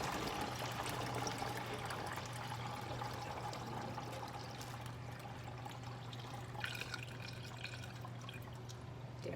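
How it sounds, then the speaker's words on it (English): Cloudy rice water poured through a funnel into a container, a soft continuous trickle and splash heard faintly and steadily, with a low hum underneath. "Use the funnel. Pour that water in there,"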